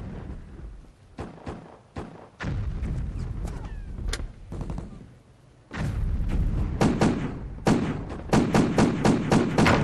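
Police gunfire in a Vietnamese drama scene, a string of sharp shots and thuds at irregular spacing, some isolated and some in tight loud bursts, with noisy commotion underneath.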